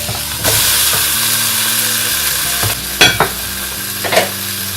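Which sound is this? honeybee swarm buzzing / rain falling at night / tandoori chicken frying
tandoori chicken frying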